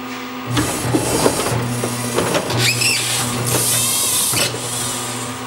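An After Burner Deluxe arcade cockpit motion rig whirs and hums steadily, with motor whine rising and falling, clunks and rattles, and a high fan-like hiss from the motor cooling fan, loud and close.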